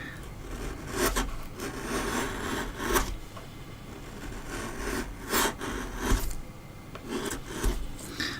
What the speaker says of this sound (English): We're using a thin chisel instead of going back to the big one.